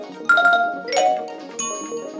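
Short app notification tones from a sound effects library: a few bright, chiming electronic notes in quick succession, then another ringing tone about a second later, clean and close with no voices.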